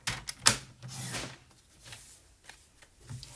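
Cardstock being cut for a handmade stamped card with the Marvelous Nature Stamp Set, heard as a sharp close snap followed by a rasping slide of the blade and a few light shuffling taps, with no talking.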